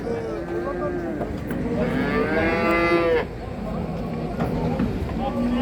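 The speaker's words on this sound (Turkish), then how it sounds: "İki kat hayvan dolmuş. Belki 50 tane inek var orada" Cattle at a busy livestock market in Çorum, Turkey: several loud, drawn-out moos rise near the middle and fade, with voices and crowd bustle running underneath throughout.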